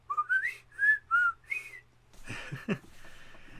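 A person whistles a series of gliding, sliding pitches imitating a slide whistle, several short rising and falling notes, followed by a brief burst of rustling noise.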